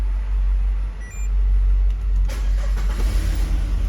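A Peugeot 407 SW car engine that stalls suddenly gives a steady low rumble throughout, with a brief surge partway through as the motor catches, close and fairly loud.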